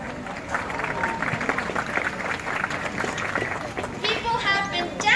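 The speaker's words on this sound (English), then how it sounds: "Let's give everyone a welcoming round of applause." An audience applauds at a dolphin show at the Vancouver Aquarium, with a steady wash of clapping and crowd noise running the whole way under an amplified announcer's voice.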